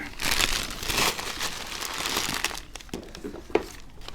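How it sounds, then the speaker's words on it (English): Crinkling and crumpling of packing material as a parcel holding a Peterson pipe is unwrapped, close and continuous with a few sharper crackles and tearing bursts, no speech. "So I'll unwrap this."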